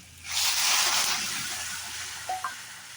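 Water poured into a pan of vegetables sizzling in oil, made for a dish of rohu fish and potatoes: a sudden loud hiss and splashy sizzle that swells and then gradually fades, with a couple of brief clinks near the end.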